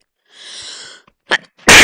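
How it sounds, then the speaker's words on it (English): A single close sneeze bursts out sharply after a brief high whistling tone and a small breathy intake, in Minecraft Hypixel Smash Heroes. "Sneeze."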